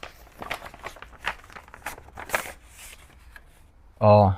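Paper job-application documents, including a letter and bank statements, are handled after being taken from an envelope, giving a series of crisp rustles and crinkles close by, then a louder burst at the end.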